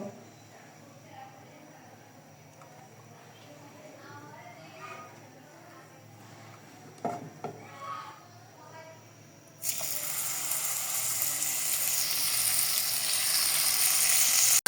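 Quiet background with a few soft clatters, then a loud, steady hiss of rohu fish frying in hot oil takes over and continues to the end.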